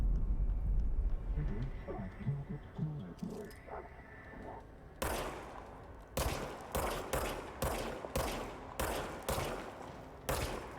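Video game gunfire rings out in a string of sharp, loud shots in the second half, roughly evenly spaced bursts, following quieter clattering and faint talk at the start.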